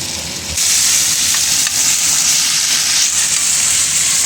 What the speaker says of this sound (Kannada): ಈಗ ಈ ಶುಂಠಿ ಬೆಳ್ಳುಳ್ಳಿ ಪೇಸ್ಟ್ದು ಹಸಿ ಸ್ಮೆಲ್ಲೆಲ್ಲ ಹೋಗೋ ತನಕ ಫ್ರೈ ಮಾಡ್ಕೊಳ್ಳೋಣ